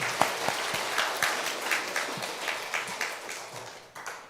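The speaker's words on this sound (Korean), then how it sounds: "우리 박수 한번 하겠습니다" A church congregation claps for a choir and chamber ensemble at a Sunday service, a moderate, even patter of applause with a few sharper claps standing out, continuing for several seconds and fading at the end.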